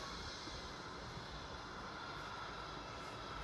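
Airbus A340 engines in a flight video game during taxi before takeoff, a quiet, steady, continuous jet drone and rumble with no voices.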